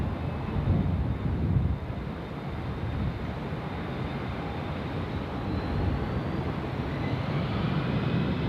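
An airliner takes off at Sydney Airport, its jet engines producing a steady, loud broadband roar that holds throughout, with a faint rising whine over the top and no voices.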